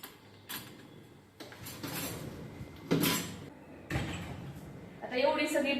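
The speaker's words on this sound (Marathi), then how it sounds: "आता एवढी सगळी भांडी यामध्ये लावून घेतली आहे." Dishes, pots and utensils clatter intermittently as they are stacked into a home dishwasher, with clinks and knocks in bursts over a steady low background, and a voice talking between the clatters.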